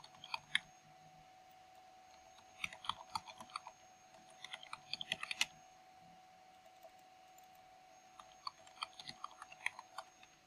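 Password being typed on a computer keyboard: quiet bursts of light key clicks in short clusters, with a steady electrical hum underneath and no talking.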